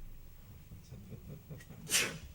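A single sneeze bursts out at a city council meeting, short and sharp over a low murmur of background room noise.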